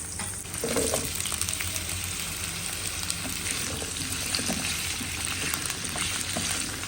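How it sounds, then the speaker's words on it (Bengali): Vegetables fry in hot oil with a constant loud sizzle and crackle, a brief stirring scrape near the start, no voices. "ফার্স্ট আমি এখানে প্যান গরম করে নিয়েছি তেল দিয়ে আগে এটাকে ভেজে নেব"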